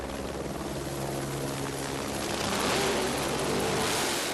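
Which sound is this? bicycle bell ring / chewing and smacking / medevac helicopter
medevac helicopter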